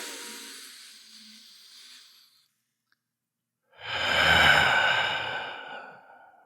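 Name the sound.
deep breath during meditation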